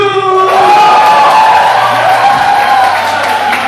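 A church crowd at a Thanksgiving mission gathering cheers, whoops and claps loudly after a vote count. Excited voices, including children's, shout close by in a dense, continuous roar.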